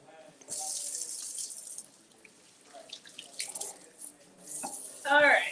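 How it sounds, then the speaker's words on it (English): Hands being washed under a running kitchen tap, the water splashing in uneven bursts that start, fade and surge again, ending in a loud close gush, with a brief spoken remark mixed in. "Let's clean hands."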